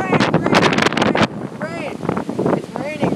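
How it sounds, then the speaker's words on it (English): Loud gusty wind from a dust storm buffets the microphone in rough bursts at a baseball game, then eases as people talk over it. "Oh my God, it's so windy."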